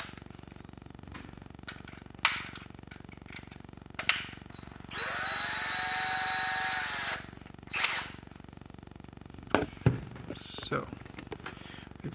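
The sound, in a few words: power drill filing an O-ring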